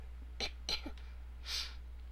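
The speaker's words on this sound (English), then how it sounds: "I got a cough." Three short, sharp coughs, close and fairly quiet: two quick ones followed by a slightly longer, breathier one after a brief pause.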